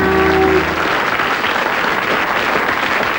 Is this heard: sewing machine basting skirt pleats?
no